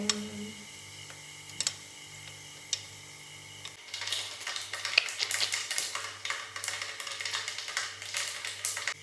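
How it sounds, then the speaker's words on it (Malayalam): Sharp little pops and crackles start sparse, then turn into a dense, rapid spattering as mustard seeds burst in hot sesame oil close by. "നല്ലെണ്ണ ചൂടായി വരുമ്പോൾ കടുക്"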